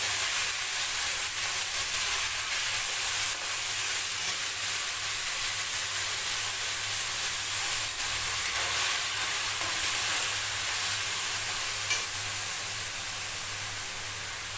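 Chopped onions with cumin seeds fry in a pan in a home kitchen, giving a steady, even sizzling hiss that holds at the same level throughout with no voices.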